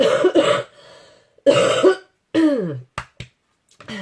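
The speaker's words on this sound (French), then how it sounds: "On va d'abord arrêter de tousser." A person coughs several times close up, a couple of harsh bursts followed by shorter, sharp coughs with pauses in between.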